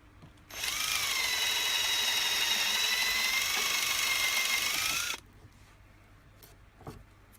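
A power drill bores through a metal part for an LED bench light, a loud steady high whine lasting about five seconds before stopping, then a few faint clicks.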